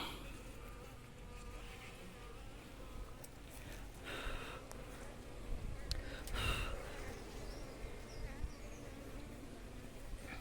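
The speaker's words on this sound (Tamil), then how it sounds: "சட்டம் மாற்றும் போது பார்த்திங்கன்னா தேனீக்கள் வந்து நிறைய கொட்டும்" Honeybees swarm around an opened hive box during frame changing, a dense continuous buzz close by with individual bees flying past the microphone, and faint handling noises.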